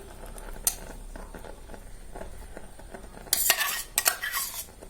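Banana and sugar syrup being stirred into a vermicelli sweet: soft scraping and patter of a spoon in a pan, then a louder burst of clattering metal strokes near the end, no voices.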